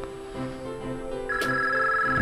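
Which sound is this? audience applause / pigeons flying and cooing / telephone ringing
telephone ringing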